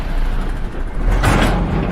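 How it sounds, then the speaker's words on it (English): A large dump truck passing by, a loud continuous rumble with a brighter hissing surge midway as it goes past, heard alone without talk. "that's a large dump truck pass by"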